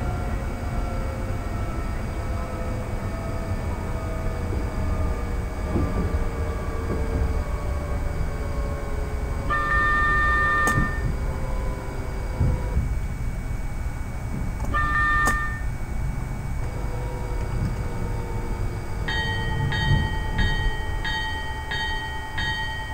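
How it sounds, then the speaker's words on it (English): London Underground Northern Line train at Goodge Street station, a loud continuous rumble and screech of wheels with falling tonal whines, a few sharp squeals, and rising beeping chimes near the end. "Is a Northern Line train."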